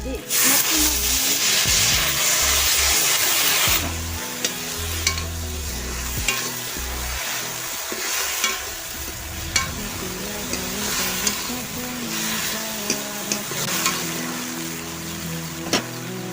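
Bay leaves and spices sizzling and frying in a pan with onion and chilli, a steady hiss with occasional stirring scrapes, close and fairly loud, no talking.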